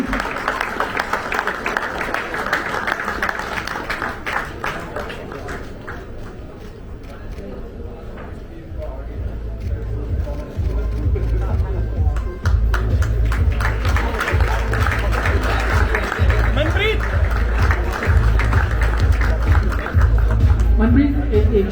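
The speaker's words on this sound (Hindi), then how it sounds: "जोर की तालियां हो जाए हमारे कप्तान साहब के लिए" At a Tokyo 2020 medal winners' welcome ceremony, an audience applauds hockey captain Manpreet Singh. Continuous clapping swells partway through and runs steadily under loud, booming hall acoustics, mixed with crowd noise, and a voice is heard over the applause.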